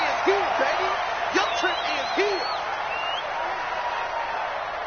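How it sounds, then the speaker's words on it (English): Crowd noise fills a domed stadium in a football video game, a sustained roar with whoops and cheers rising over it, while a commentator's voice talks over the top. "The crowd here in the Dome making things difficult."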